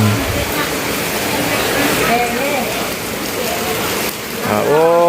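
Heavy rain pours down during a storm at a funeral gathering, a constant broad hiss of rainfall with people talking over it.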